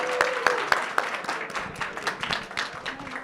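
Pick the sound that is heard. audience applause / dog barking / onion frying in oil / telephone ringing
audience applause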